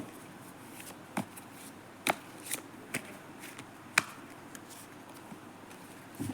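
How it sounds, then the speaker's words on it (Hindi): Tarot cards shuffled and drawn from a deck, giving a handful of soft, scattered card snaps and flicks at a low level over a quiet background. "एक कार्ड निकल आया है, मैं इसको ले लेती हूँ।"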